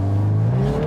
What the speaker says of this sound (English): And listen to that engine. This engine also makes a great sound.